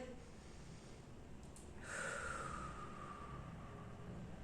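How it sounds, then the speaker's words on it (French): A slow nasal inhale followed by a long, steady exhale. It comes from a diaphragm relaxation exercise. The breath is close and fairly soft, with a rushing airy swell in the second half, over faint background hiss. "J'inspire par le nez et je souffle."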